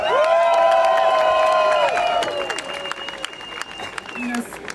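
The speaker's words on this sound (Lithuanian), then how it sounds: "jūsų aplodismentai." An outdoor crowd at a Baltic Pride LGBT rally in Vilnius breaks into applause and cheering, with a sustained amplified tone ringing over it before the clapping thins out into scattered claps and murmurs.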